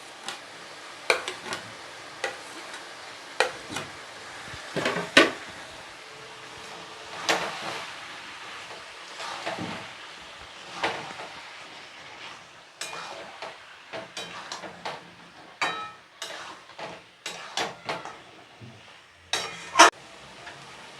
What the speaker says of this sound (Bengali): বন্ধুরা, আমি মশলার পেস্টটা দিয়ে দিচ্ছি।